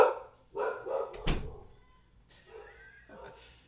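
A pet dog indoors lets out a few short barks and yips in quick succession, followed by softer whimpering noises, all fairly close.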